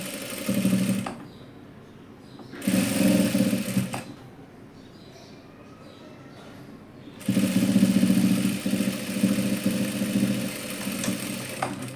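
A sewing machine stitches a dress made from leftover fabric, running in three close, loud bursts, the last one long and steady, with quieter pauses between.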